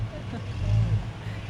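A parade truck with a slammed rear end, rough and hard to idle, rumbling low and steady, swelling briefly as it revs at a rodeo parade, close by.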